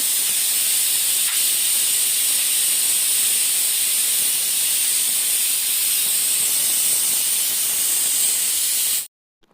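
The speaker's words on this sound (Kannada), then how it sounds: "ಮೂರು ವಿಸಿಲ್ ಬರಬೇಕು" A pressure cooker cooking toor dal sambar lets out a loud, continuous steam whistle, a close, bright hiss held steady for about nine seconds before cutting off abruptly.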